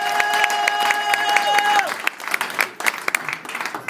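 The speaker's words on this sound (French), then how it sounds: "Est-ce que vous pouvez quand même très bien acclamer?" Audience applause and some cheering at a couples' conference and dinner at a church in South Africa. The clapping is dense and fills the room, with a sustained tone under it early on, then breaks into scattered claps.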